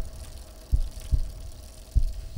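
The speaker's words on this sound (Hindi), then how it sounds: "इतनी आवाजों के बीच मुझे एक आवाज डिस्टर्ब कर रही है, वो है उसके दिल की धड़कनें।" A racing heartbeat used as a movie sound effect, deep low thumps arriving in close pairs, heard twice, loud and close with no talk.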